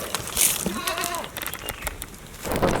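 A goat buck at a shepherd's mountain camp bleats in a short wavering call, heard outdoors amid wind and rustling background noise.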